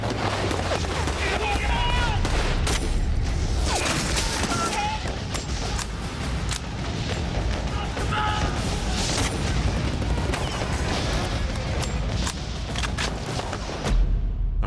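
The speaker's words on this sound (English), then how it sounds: "His machine gun is the last one still firing from his group of bunkers." Machine gun fire from German bunkers on the Atlantic Wall: dense, continuous bursts and booms of battle gunfire, loud and chaotic throughout, with a narrating voice mixed in.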